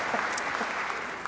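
An audience at a lecture applauds with dense, steady clapping that fills the moment at an even, moderate volume.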